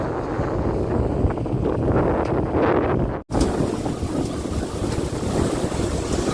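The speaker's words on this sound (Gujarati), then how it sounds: "પવન બહુ છે ને આજે." Strong wind buffets a microphone outdoors on a farm, a loud continuous rumbling roar with a brief dropout midway, no speech.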